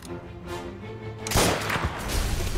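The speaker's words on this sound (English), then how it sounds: "Explosions!" Explosions in Mafia: Definitive Edition, a video game, burst out midway as a loud broadband blast followed by rumbling debris, after a quieter stretch of muffled ambience.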